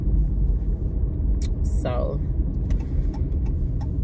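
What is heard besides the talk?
car driving down the street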